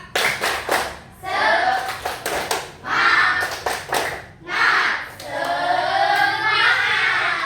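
Schoolchildren in a classroom clap out a rhythmic spirit-clap pattern, with bursts of tight, patterned clapping alternating with their loud chanted voices.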